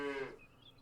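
A short cartoonish cow moo from the video game Super Auto Pets, a single brief call that fades quickly into quiet.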